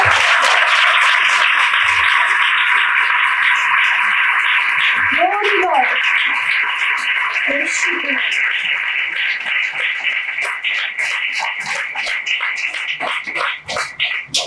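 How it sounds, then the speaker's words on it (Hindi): A church congregation at a Sunday service claps, the scattered clapping building into thick, sustained applause in the second half over a steady electronic hum and static from the sound system. "हम परमेश्वर को जोरदार ताली देंगे"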